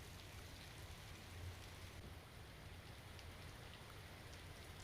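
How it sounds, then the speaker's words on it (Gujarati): Heavy monsoon rain falls at a temple in Gir forest, Gujarat, a soft, even hiss of steady downpour heard from a distance, with nothing else over it. "મોડી રાતથી ગીરમાં ભારે વરસાદ વરસી રહ્યો છે"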